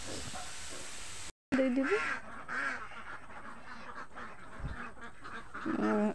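Ducks quacking at a backyard poultry pen, a few short nasal calls near and far over low outdoor background noise, with brief voices in between.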